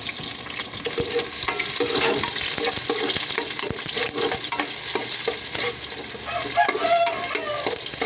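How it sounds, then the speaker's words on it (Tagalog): Garlic and onion sauté in a hot pan for chicken tinola, a dense, continuous sizzle with stirring scrapes throughout, close and fairly loud. "mainit na yung ating kawali. Bawang, sibuyas,"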